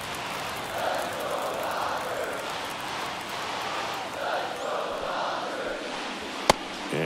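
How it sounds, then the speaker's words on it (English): A baseball stadium crowd at a Texas Rangers versus Los Angeles Dodgers game sends up a steady, broad roar that swells and settles throughout, ending with one sharp crack near the end. "this crowd making their presence felt"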